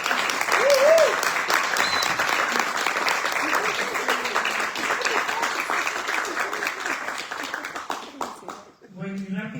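An audience at a music education conference applauds a teacher, sustained clapping from many hands filling the room, fading near the end as a voice begins speaking.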